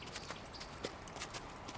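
Hooves of a horse clip-clop in a quick, light rhythm, fairly faint and steady, with no one talking.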